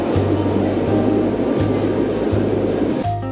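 A Moscow metro train in a station gives a loud, continuous rumble with a rhythmic low clacking from the wheels, close by, ending in an abrupt drop as the sound cuts.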